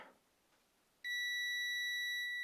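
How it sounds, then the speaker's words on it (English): A steady, high multimeter continuity-test beep, detecting a short on an Aorus Z690M Elite AX DDR4 motherboard, starts abruptly after a second of near silence and holds unbroken to the end, loud and close. "we have a beep and we have a short"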